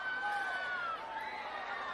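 A high school football game crowd roars and cheers in the stands, a dense, steady wash of many voices with some shrill whistles and shouts on top. It is fairly distant and continuous throughout.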